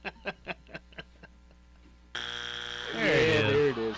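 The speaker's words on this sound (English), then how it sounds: "let me get my buzzer out." A radio show buzzer sounds as one steady, loud electronic tone for about two seconds, swelling louder near the end, after a few soft taps.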